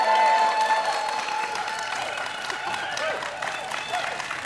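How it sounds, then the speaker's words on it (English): A live-show audience at Club Cosmos applauds and cheers on a cold Tuesday night, a dense, steady wash of clapping with scattered whoops, loud and close throughout. "That's a feisty crowd tonight"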